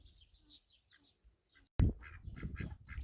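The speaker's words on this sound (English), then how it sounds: "Baby ducks, ducklings are now sort of growing up." Young ducklings at a garden smallholding on an ordinary day, a rapid run of small quacks and peeps repeating close by after a sudden loud knock, with softer bird calls before it.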